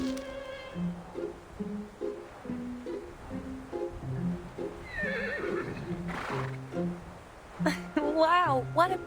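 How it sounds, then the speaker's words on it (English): A horse neighs in the video game Reverse: 1999, with a rising whinny near the end over steady background music and clip-clop-like rhythmic sounds. "Sounds like a horse to me."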